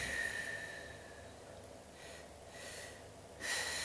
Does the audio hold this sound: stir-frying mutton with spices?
no